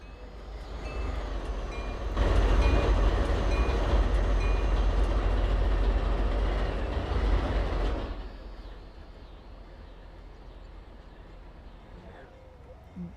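A diesel train in the Trainz rail simulator, with a Conrail locomotive and snow flying, rumbles steadily. The engine roar swells loudly from about two seconds to eight, then drops back to a quieter, steady running drone.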